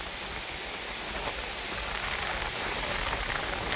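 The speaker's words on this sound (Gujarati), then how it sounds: "પવન સાથે છે વરસાદ." Heavy rain with wind during a night storm, a dense, loud, constant roar of rainfall striking surfaces with no breaks and no voices.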